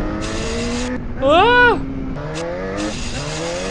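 A video game motorcycle engine, a Yamaha XJ6, whines over a steady drone, with a rising and falling pitch sweep that sounds glitchy; a man briefly exclaims.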